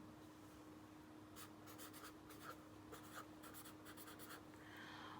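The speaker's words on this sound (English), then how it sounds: "I'm just going to write it down." Pen or pencil writing out an algebra example by hand on paper, a run of short scratchy strokes in bursts, close and fairly quiet over a low steady hum, with no talking.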